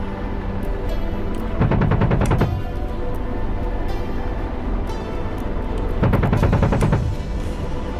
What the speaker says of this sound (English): Let's test fire. Alright, let's shoot that tree right there.